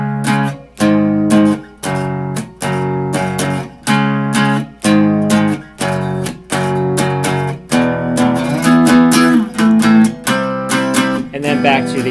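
An electric guitar plays the solo section of a song, repeating a short, loud, strummed chord pattern in steady, even blocks, heard alone without talk.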